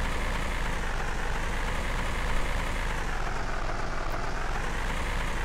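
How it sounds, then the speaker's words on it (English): An old, hard-worked tractor engine in Farm Simulator 15 drones steadily and loudly at close range, a continuous rumble with no talk over it. "That's an engine that's done a hard life's labour."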